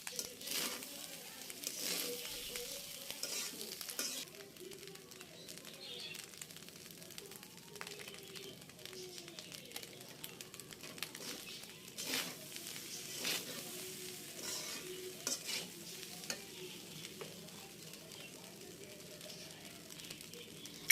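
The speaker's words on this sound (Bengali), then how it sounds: "এরপর আমি ভাতটাকে ভালো করে ভেজে নিব।" Leftover cooked rice frying and being stirred in a pan, a soft continuous sizzle with scraping spatula strokes throughout, fairly quiet and heard alone.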